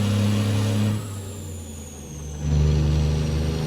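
Simulated Cat C-12 diesel truck engine in American Truck Simulator, a steady loud drone whose revs fall off to a lower hum, then climb again into a strong rumbling pull toward the end.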